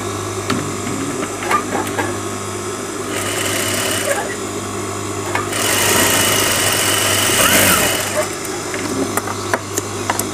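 A sewing machine stitching a trouser side pocket from the inside, its motor whirring in close bursts of varying length that rise and fall, with a person talking over it.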